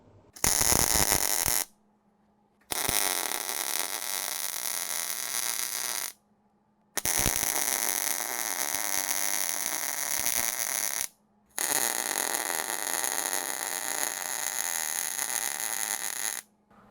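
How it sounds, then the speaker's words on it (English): A Power Wheels axle is welded in four long, steady bursts of loud, crackling buzz, each lasting several seconds and separated by short silences. "I put some pretty big welds on this side because it's very, very thick and that's very, very thin."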